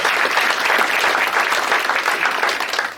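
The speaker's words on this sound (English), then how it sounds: "you have to give her a round of applause for that" Steady audience applause, many hands clapping at once, loud and sustained throughout before easing slightly at the very end.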